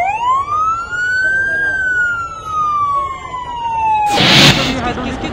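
A fire engine siren rises and falls in one long, loud wail during a fire response at a Bihar government building, Vishweshraiya Bhawan, and is cut off by a burst of broadband noise near the end.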